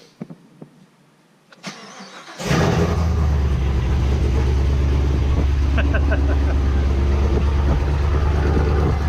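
A 6th-generation Chevrolet Camaro ZL1 engine cranks and roars to life, then holds a loud, steady, rumbling idle with a deep throaty tone, close by.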